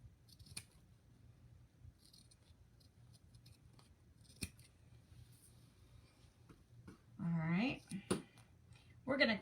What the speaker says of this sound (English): use your bad scissors, because this stuff it will ruin your good scissors